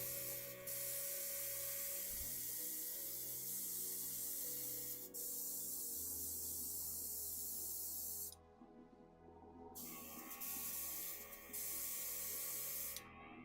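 A can of silver steel spray paint hisses in long continuous bursts on a model kit part, loud and close, with brief pauses and restarts near the end.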